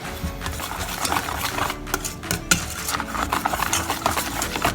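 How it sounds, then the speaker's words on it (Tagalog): A spoon stirs strawberry-flavored Mountain Dew soda cupcake batter in a bowl, giving steady scraping and clinking strokes that repeat close up without talk. "We're gonna mix it well."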